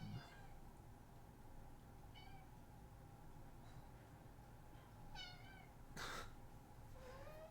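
A pet cat meows several times, its faint, wavering calls recurring at intervals and coming from somewhere in the room over quiet background hum, with no voices.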